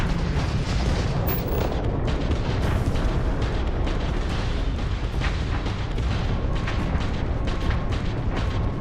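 Dense, continuous roar of heavy explosions and rumbling blasts as a ship is destroyed in the space game Starfield, loud and sustained with repeated bursts throughout, no talking.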